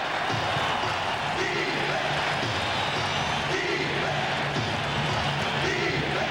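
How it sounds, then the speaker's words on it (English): Football stadium crowd chanting for defense during a tense third down, a broad, continuous roar of many voices with rhythmic swells, loud and filling the space throughout. "The crowd chanting defense."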